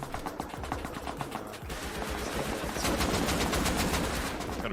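Rapid, dense gunfire from players shooting out a structure in Rust, continuous overlapping bursts of automatic shots that grow louder and fuller toward the end, with no voices over them.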